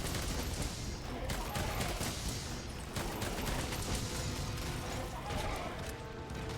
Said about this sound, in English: we have done nothing but shoot this fire ammo